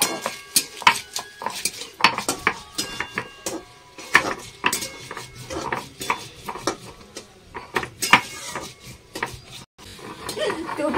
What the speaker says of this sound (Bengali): এখন কটা লঙ্কা বাটবো।